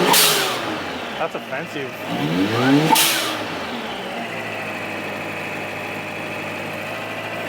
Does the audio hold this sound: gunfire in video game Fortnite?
no